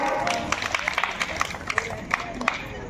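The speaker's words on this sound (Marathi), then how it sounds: "जोरदार टाळ्या" Scattered clapping from an audience at a Women's Day quiz event held at the Saptashrungi Mata temple, irregular claps over crowd murmur and talk.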